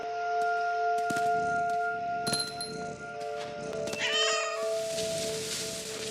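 Cat meowing in the video game What Remains of Edith Finch, a short meow amid clinks and sustained soundtrack tones, followed by a hiss-like rush of noise.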